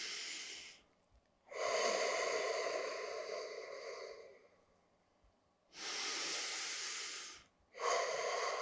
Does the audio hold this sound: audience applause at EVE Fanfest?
no